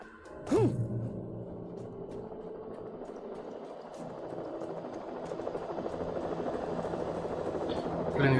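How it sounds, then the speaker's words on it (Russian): A pursuing helicopter in the Alan Wake video game drones as a steady low rumble, with a brief sharp swooping effect near the start and voices faintly mixed in. "Блин, вертолет пустили по следу."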